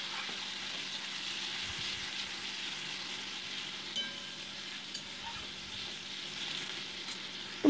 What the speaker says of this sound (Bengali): কেটে রাখা কাঁচা লঙ্কা দিয়ে মোটামুটি এটাকে 2 মিনিটস আমি ভেজে নিচ্ছি।